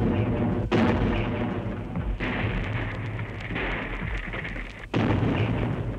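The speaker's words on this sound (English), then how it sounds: "still heavier bombardments beat upon the ancient town" Heavy WWI artillery bombardment of the ancient town of Ypres during the second battle in 1915: a continuous rumbling barrage punctuated by several sharp, loud blasts a second or two apart, with no voices.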